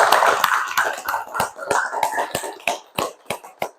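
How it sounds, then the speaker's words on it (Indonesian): A classroom of students claps for a group, starting as a dense patter and thinning into a handful of separate, sharp claps toward the end, close and fairly loud. "Kita tepuk tangan sekali lagi buat kelompok."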